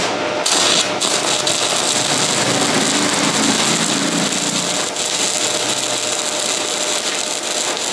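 A mini MMA200A stick welder arc-welds with a 10 gauge rod, giving a continuous loud, harsh crackling hiss close up that runs almost unbroken and wavers slightly now and then, with no talking.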